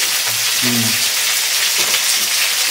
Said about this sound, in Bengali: এখন তেলটা বেশ গরম হয়ে গেছে। কিন্তু এইবার আমি আলুগুলো ছেড়ে দিচ্ছি।